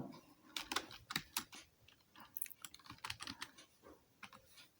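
Rapid keystrokes on a keyboard connected to a mobile phone, clattering in uneven bursts of clicks close to the mic, with no talking over them.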